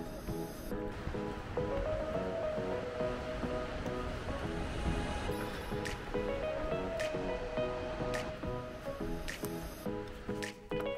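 Ocean surf at Secret Beach on the Oregon coast, a continuous wash of waves rolling in with a steady, fairly soft roar and no talking.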